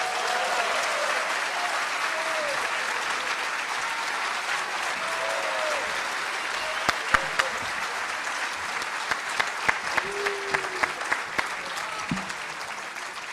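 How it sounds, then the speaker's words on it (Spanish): Audience applause welcoming a guest at a live talk show event, a broad sustained clapping from a crowd at moderate distance, with a few sharper nearby claps toward the end and faint voices underneath. "recibámoslo con un cariñoso aplauso, don Fernando Paulsen."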